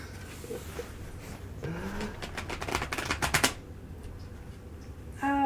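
Tarot cards shuffled at a small table, a soft rustle building into a quick riffle of rapid snapping flutters, then a short pause before a brief voice.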